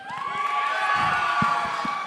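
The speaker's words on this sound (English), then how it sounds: "The high schoolers are cheering really loud" High schoolers cheer loudly at a school event, a dense crowd roar with high-pitched shouts and squeals over rhythmic thumps, close and sustained throughout.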